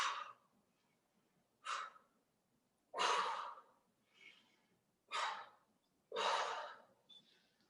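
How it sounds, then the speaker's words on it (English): Forceful breathy exhales during kettlebell mobility training, six bursts about a second apart at the end of each range of motion, close and clear with quiet pauses between. "every time I reach the end of a range, I exhale"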